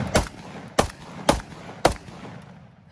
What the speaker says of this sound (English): you shooting a goddamn shotgun